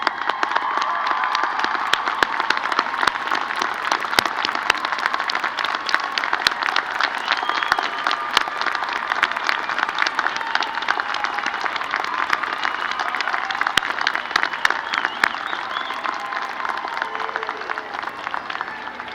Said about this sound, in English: Families of our graduates, please stand now for a well-deserved round of applause.